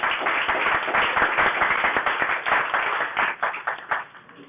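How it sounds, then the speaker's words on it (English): An audience at a talk applauds as the speaker is introduced, a dense burst of clapping at close range that stays strong, then thins toward the end. "Please give a round of applause for Dr. Victoria Shackelford."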